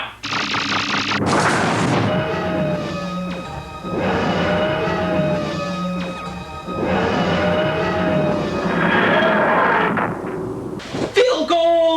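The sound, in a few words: TARDIS defense shield firing, gunfire sound effect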